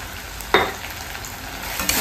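Spice paste for a crab curry, with red chilli and onion-garlic masala, fries in oil with a constant close sizzle, marked by a sharp scrape of a spatula early on and another toward the end.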